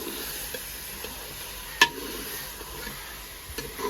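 Chicken stir-fried in a pan, giving a steady soft sizzle with light scraping stirs and one sharp clink of utensil on metal near the middle, close and alone without talk.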